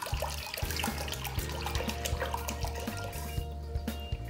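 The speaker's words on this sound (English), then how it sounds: "Add some water." Water poured from a bottle into a cooking pot while making pinto beans with smoked ham hocks, a steady close splashing and trickling that runs continuously through the whole stretch.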